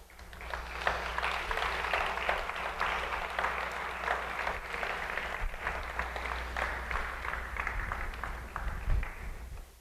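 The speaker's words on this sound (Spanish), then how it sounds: "Ahora dale un aplauso al Rey." Steady applause from a crowd, many hands clapping continuously for several seconds over a low background hum.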